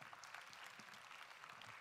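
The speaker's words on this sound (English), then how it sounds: "Please help her with another round of applause, please." An audience at a formal development-bank anniversary ceremony clapping, a dense, even round of applause from many hands, steady and sustained without speech.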